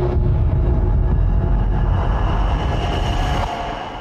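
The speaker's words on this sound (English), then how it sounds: "So it just adds a little bit of drama underneath." Dense, rumbling sound effect swelling under a film score for drama, a steady wide roar with a heavy low end that holds and then eases off near the end.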